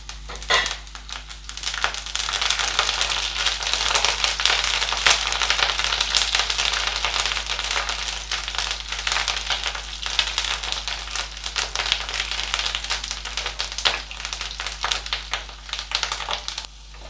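Garlic and small shallots sauté in hot oil for a Nellai-style puli kulambu, giving a steady, close, fairly loud sizzle with crackling and occasional stirring scrapes that lasts throughout, with no voices.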